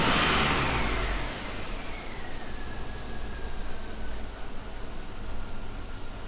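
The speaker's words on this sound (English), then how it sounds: "Let's rev it up a little bit." GMC truck engine revving, a loud burst at first that eases into a steady, rough idle with a thin whine running through it, close by and without voices.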